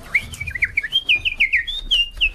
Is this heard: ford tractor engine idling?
no